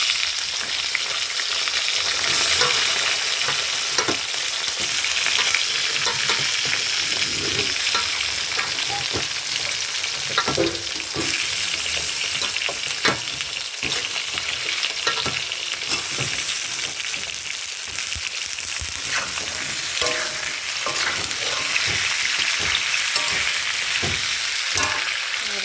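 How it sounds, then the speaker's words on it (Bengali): Vegetables fry in hot oil in a pan with a steady, loud sizzling hiss throughout, broken by frequent scraping and clinking stirring strokes. "সবজিগুলো একটু ভেজে নেবো।"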